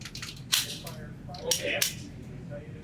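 FN Hi-Power Double Action Compact pistol fired on a range from 7 yards, giving a few sharp shots spaced irregularly, moderately loud and somewhat distant, with the crack ringing briefly in the open air.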